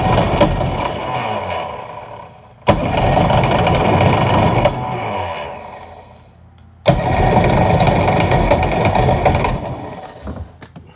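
A Seadoo jet ski engine with the choke applied cranks loudly in three long bursts, each starting abruptly and churning steadily for a couple of seconds before winding down, without catching or running on its own.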